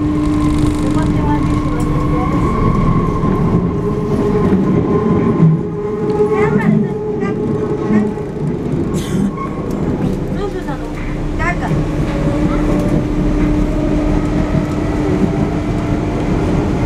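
An MF 77 train on Paris Metro line 13 rumbles steadily with a sustained motor whine and rail noise at constant loudness, a few faint clicks over the wheels, and a voice talking over the running train.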